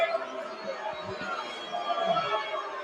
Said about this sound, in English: You can hear the crowd not agreeing with the call.